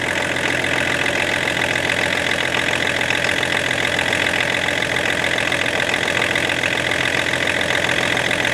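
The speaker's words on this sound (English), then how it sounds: "once the compressor kicks in, we can get some air in there and get the suspension back up." An air suspension compressor on a Range Rover P38 runs continuously with a steady mechanical drone and buzzing hum, close and constant, without any talking.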